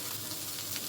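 Garlic sizzles as it hits hot oil in a pan, a brief, close, crackling hiss with no talking.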